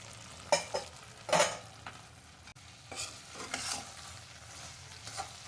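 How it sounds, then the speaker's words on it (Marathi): A spoon stirs and scrapes through a kharvas (colostrum milk) mixture with nutmeg in a pan, giving a few distinct close scraping strokes over a faint low sizzle, with no talk. "मिक्स करून घेऊया"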